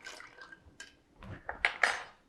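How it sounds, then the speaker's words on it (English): Ice clinks against glass and a bar spoon as a cocktail is stirred, a series of light rattling clicks that grow louder and sharper toward the end, close and alone. "We can stir for a good long while to get this thing down to temperature."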